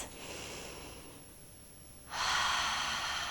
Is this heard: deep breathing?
yes